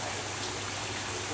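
Steady rushing of a stream flowing continuously, broadband and even throughout, with no clear voices above the water.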